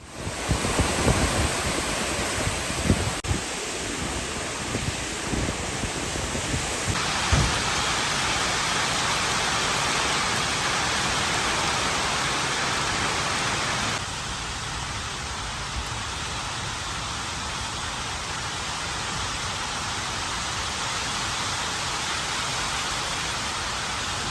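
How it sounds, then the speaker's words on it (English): Heavy rain from a thunderstorm falls steadily outdoors on a farm, a dense continuous hiss with wind buffeting the microphone and a few sharp knocks early on, and no voices. "We have been getting rain and thunderstorms like crazy."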